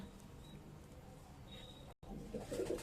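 Soft, low coos of a male pigeon near the end, after a brief dropout, over a faint steady background hum.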